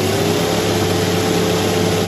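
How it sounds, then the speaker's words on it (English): Coolant fan on a VW Mk1/Mk2 running hard close by, a loud, steady whooshing roar over the engine that holds throughout the short stretch. "Step two, coolant fan turning on."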